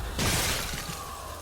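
Shattering Blast spell effect in the Hearthstone card game, a sudden loud burst of breaking glass that crashes in and then fades into a ringing, swishing tail.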